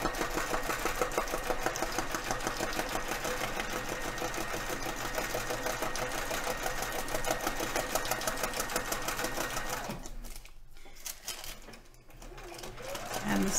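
A sewing machine runs steadily for about ten seconds, stitching a fabric flower collage with a fast, even mechanical whir, then pauses briefly before starting up again.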